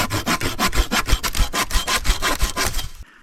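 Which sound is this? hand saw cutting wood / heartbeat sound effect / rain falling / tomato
hand saw cutting wood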